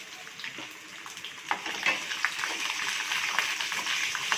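Garlic frying in a pan for Chettinad pepper chicken, a bright hissing sizzle that swells with small pops and spits as the pieces hit the hot oil, continuous and fairly close.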